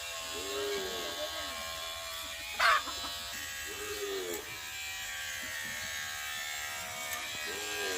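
Electric hair clipper jamming on dirty hair, a steady buzzing drone that stalls and strains as the blades catch, with a brief sharper burst near the middle and a voice speaking over it.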